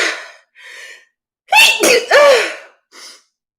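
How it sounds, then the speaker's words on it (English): A few sharp breathy inhales build up, then a loud close sneeze bursts out, followed by a short breath. "Oh my God, I'm going to sneeze."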